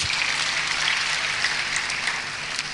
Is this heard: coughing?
no